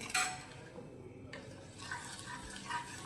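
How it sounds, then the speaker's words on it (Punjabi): Sugar stirred in a pan over a low gas flame to make patase, with scraping and light clinking strokes of a spoon against the metal, steady and close, with no voices. "ਆਪਾਂ ਇਦਾਂ ਹੀ ਇਹਦੇ ਪਤਾਸੇ ਬਣਾਵਾਂਗੇ ਲਗਾਤਾਰ ਹਿਲਾਉਂਦੇ ਰਵਾਂਗੇ"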